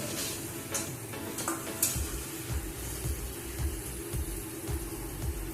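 Pabda fish dropped into hot spiced oil in a pan, frying with a continuous soft sizzle and crackle, plus light rhythmic scraping and clinking of utensils throughout.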